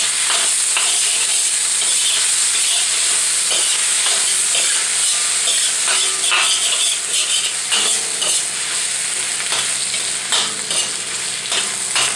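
Fish-fragrant tofu being stir-fried and tossed in a hot pan, a loud continuous sizzle and hiss broken by scraping, clattering stirring strokes, with no voices.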